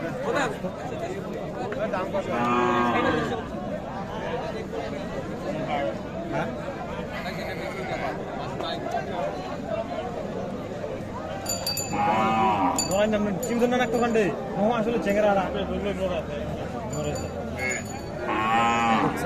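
Local desi cows with calves at the Setabganj cattle market low and moo repeatedly, some calls close and loud, others farther off, amid steady crowd chatter and people talking nearby.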